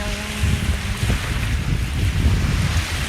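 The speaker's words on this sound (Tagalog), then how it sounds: "malakas yung alon" Strong ocean waves wash at a beach during a barbecue outing with speedboats nearby, a steady loud roar of surf mixed with wind buffeting the microphone, no voices over it.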